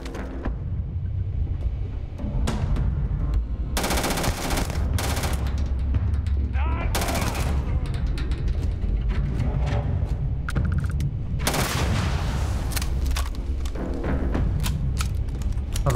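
Rapid bursts of Maelstrom gunfire in the Starfield video game, loud and sustained with repeated volleys and short gaps between them, along with heavy thuds and no talking.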